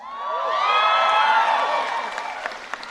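Cheering and whooping crowd at a Bernie Sanders political rally in Duluth, Minnesota, a loud swell of voices and applause that peaks then fades over about three seconds.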